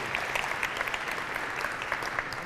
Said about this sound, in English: a big round of applause for our friends from the 30th Space Wing